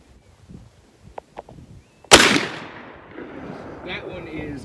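A 10 gauge shotgun fires a 2 7/8 inch sabot slug at an outdoor range: one loud, sharp blast after a few quiet clicks and faint noises, followed by a long rumbling echo that fades slowly.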